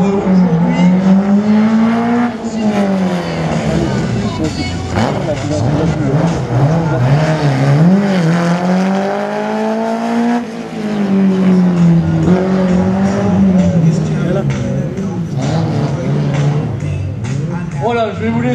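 A race car runs a slalom course at Agon-Coutainville, its engine revving up and down in repeated swooping climbs and drops with tires squealing through the turns, loud and close while a commentator talks over it.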